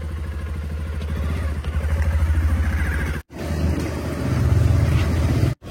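A kick-started motorcycle engine runs at a steady, close throb with a rough, rattling idle, then cuts out abruptly for a moment and roars back louder, stopping sharply again near the end.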